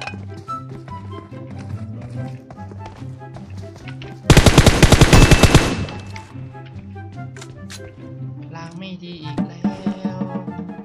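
Gunfire in the video game PUBG Mobile: a loud, fast burst of automatic fire rattles for about a second and a half over a background of game music and effects, followed later by a short string of quieter single shots.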